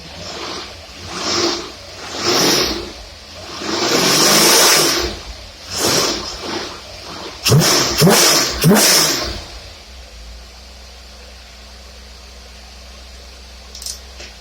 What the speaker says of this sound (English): So gonna rev it up a couple times here.